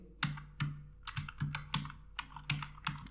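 Rapid typing on a computer keyboard, close and crisp, with irregular bursts of key clicks and short pauses between words, no voices.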